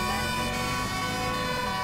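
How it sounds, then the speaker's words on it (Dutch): A police car siren in GTA 5 wails loud and steady, close up and continuous, with no talk over it. "Mijn sirene kan wel uit."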